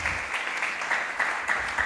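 Audience at a Chennai youth camp sermon session claps together to welcome the year's theme, a steady dense patter of many hands filling the room without a break.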